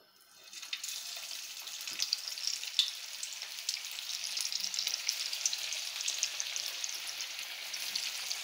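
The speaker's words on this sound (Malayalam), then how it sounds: "എണ്ണയിലേക്ക് ഓരോന്നായിട്ട് ഇട്ട് കൊടുത്ത് നമുക്ക് വറുത്തെടുക്കാം" Soybean snack vadas deep frying in hot oil on a stove, a steady, dense sizzle that starts after a brief quiet moment and continues evenly, close and moderately loud with no talk.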